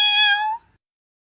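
A cat gives a single clear meow, a bright drawn-out cry lasting under a second, close and alone before silence.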